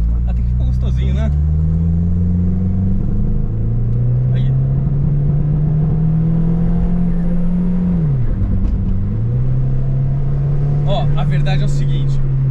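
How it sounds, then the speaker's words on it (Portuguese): A tuned, heavily modified Mini Cooper engine revving loudly up close, a steady droning rise with a dip and recovery, sharp crackles and pops from the exhaust, with people talking over it. "Esse barulho aí, cara. Nossa, tinha um escapamento."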